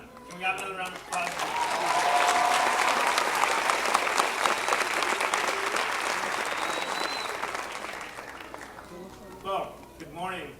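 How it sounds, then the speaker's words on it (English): Audience applause fills a graduation ceremony, a sustained dense clapping that swells and holds for several seconds before tapering as a voice speaks at the start and end. "Can we have another round of applause?"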